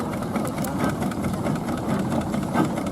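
A 1927 Aveling-Porter steam roller at a steam rally runs steadily nearby, giving a loud, continuous mechanical chuffing and rumble with a busy outdoor crowd noise mixed in.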